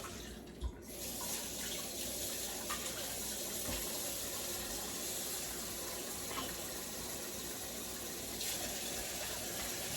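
Tap water runs in a steady, continuous stream, filling a soup pot for homemade chicken noodle soup in a home kitchen, with a brief knock at the start and no talking.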